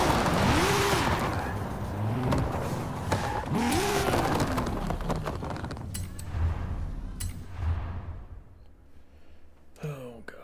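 A Nissan GT-R Nismo drives in Forza Horizon 5, its engine rising and falling in pitch through several revs over mechanical clunks and creaks, loud at first and then fading toward a quieter tail.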